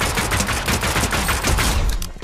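Rapid automatic gunfire in the video game Fortnite, a dense continuous burst of loud shots across the whole stretch.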